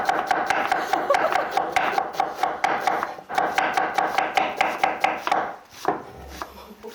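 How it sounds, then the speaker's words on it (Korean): Rapid, steady knife strokes thinly slice an onion on a board, a dense run of crisp close chops with a brief pause partway and a softer handling sound at the end; no talk. "양파를 먼저 썰게요. 최대한 얇게 해주시면 돼요."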